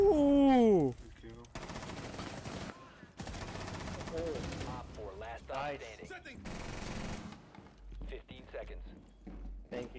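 Bursts of automatic gunfire from Bandit's weapon in Rainbow Six Siege crack out in several sustained volleys, loud and close, with someone talking between and over the shots.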